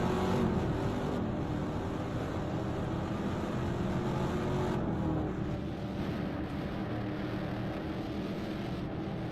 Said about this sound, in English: Okay, accelerating up now